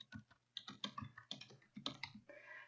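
Keys clatter on a computer keyboard as text is typed, quiet and close, an uneven run of distinct clicks over a few seconds with no talk.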